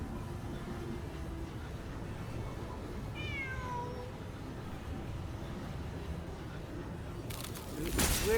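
A cat meows once in Genshin Impact, a short rising-falling call about midway, faint over a steady background hum, with a brief louder noise near the end.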